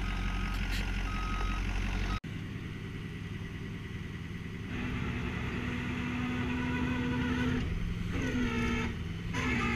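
A tow truck hauling a 1956 Mercury M700 runs with a low engine rumble, then a repeating reversing beep joins in steady pulses, close and fairly loud.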